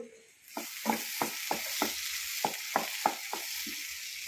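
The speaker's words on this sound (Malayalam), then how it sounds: "നെയ്യ് ഇട്ടിട്ട് വറുത്തെടുക്കുക" Pieces of raw green jackfruit sizzle softly in ghee while a spoon stirs them, each stroke giving a short scrape in an even, unhurried rhythm.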